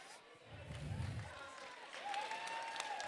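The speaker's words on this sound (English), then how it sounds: "give them all a clap" Guests at a charity auction dinner give a short round of clapping, moderately loud and spread through the room, with a voice talking over it and a low thump early on.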